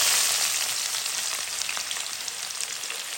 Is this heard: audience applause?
no